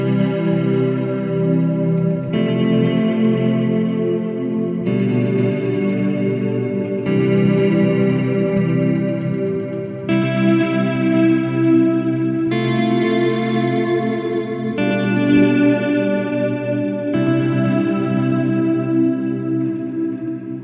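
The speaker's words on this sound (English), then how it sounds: "how to play some really cool voicings on the guitar" Electric guitar playing ambient worship chord voicings through chorus, delay and reverb effects, a series of lush sustained chords changing every couple of seconds, loud and washy with no talking.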